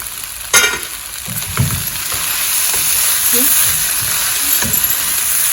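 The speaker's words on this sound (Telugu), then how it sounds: "చూడండి కూర వేగిపోయింది" A flat bean curry fries in a pan with a steady, loud sizzle, broken by a few clattering stirs and scrapes near the start.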